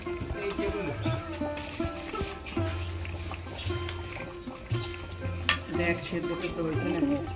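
A spoon scrapes and knocks against a cooking pot as meat curry is stirred, giving a series of uneven clinks and scrapes over a low simmer, with people talking at times.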